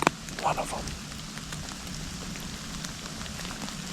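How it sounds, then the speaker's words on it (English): Steady rain patters on surfaces outdoors during an opening-day spring turkey hunt, a soft continuous hiss with scattered drop ticks and no voices. "it'd be a lot nicer if it wasn't raining for about 10 reasons"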